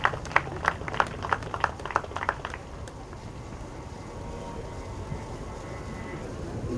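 An audience applauds at a Marathi film event as actor Hruditya Rajwade comes on stage: a quick burst of rhythmic clapping that ends after a couple of seconds and leaves a low hum of the room.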